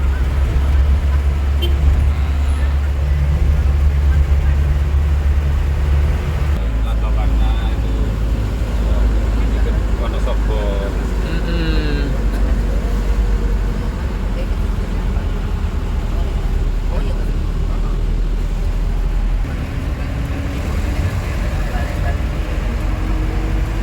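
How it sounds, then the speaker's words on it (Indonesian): Ride inside a tourist shuttle bus heading to Dieng plateau sights, with a continuous low engine drone and cabin rumble that shifts gear partway through, while a person talks over it. "Sekarang kita lagi berada di shuttle bus untuk menuju ke titik-titik paket wisata Dieng."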